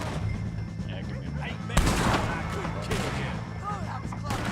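Gunshots crack in a shootout with O'Driscoll gang members in Red Dead Redemption 2, with a loud blast near the middle and further shots amid background ambience and a distant voice.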